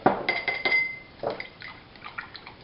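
A brush works paint around a palette in quick strokes, with light clinks and taps against the surface and soft wet dabbing, close and fairly quiet, no talking.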